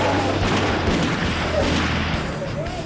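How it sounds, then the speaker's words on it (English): Gunfire erupts during a police raid on a drug lab, with loud, sharp reports and booms over a dense rumbling background, and voices are faintly audible amid the clamor. "the entry team received gunfire from inside"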